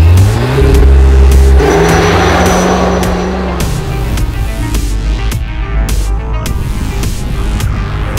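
A Cupra Formentor accelerates hard nearby, its engine note rising loudly in a throbbing rev before settling into a steadier hum as it pulls away.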